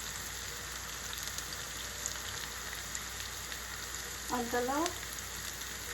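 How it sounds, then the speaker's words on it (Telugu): Bitter gourd frying in oil in a pan, a constant close hiss of sizzling that continues throughout, with one brief spoken word from a woman near the end. "బాగా మంచిగా ఫ్రై అవుతున్నాయి"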